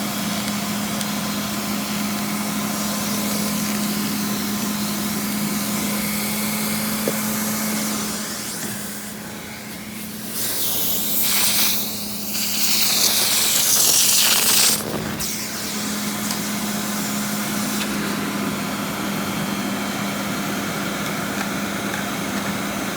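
A Rainbow D4c SE canister vacuum cleaner runs with a steady loud whirring drone, its pitch and airflow hiss rising sharply for a few seconds midway as the nozzle is worked, then settling back.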